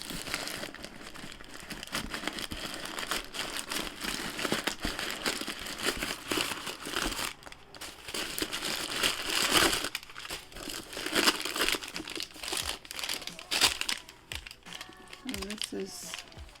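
Packing paper crinkles and rustles steadily throughout during unwrapping, close by, with scattered crisp crackles and a voice occasionally speaking over it.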